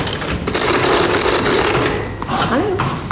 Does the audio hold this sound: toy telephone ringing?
yes